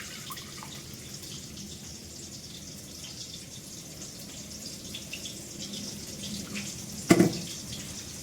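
Rice-washing water tipped out of a container outdoors for watering a plant, a soft steady trickle for several seconds ending in a brief louder splash.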